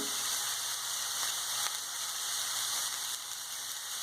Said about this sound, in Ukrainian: Додаємо гриби і продовжуємо смажувати.